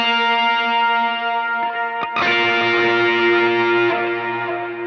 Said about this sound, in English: That's what the electric guitar is doing during that instrumental section